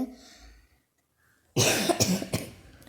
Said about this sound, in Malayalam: ഇവൾക്കൂടെ ചുമ വരുന്നതാണ് കേട്ടോ